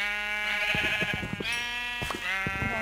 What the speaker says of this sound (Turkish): Vallahi koyun. Hem de iki tane.